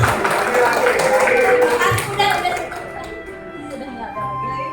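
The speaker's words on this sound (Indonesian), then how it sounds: "Boleh tepuk tangan." Participants in a school mentoring discussion clap after the session ends, a brief scattered burst of hand claps that thins out within a few seconds while a voice continues speaking.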